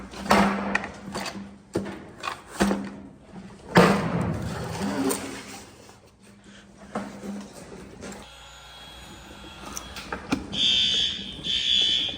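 A fire alarm horn sounds during testing at a middle school, giving bursts of buzzing and clattering interrupted by loud knocks and handling noise, then a steady high electronic tone near the end. No one speaks.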